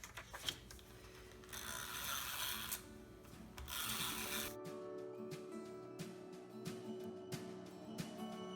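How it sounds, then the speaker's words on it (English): A Prit refill roller drawn across paper in a journal, producing a dry rasping, ratcheting rub in a couple of long strokes, then faint clicks and small mechanical ticks, close and quiet. "This is my trusty Prit Refill roller"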